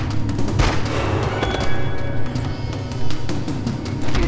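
AK rifle fire in the PS2 game Resist or Serve, a steady stream of loud close shots rattling on for several seconds with no pauses, alone without voices.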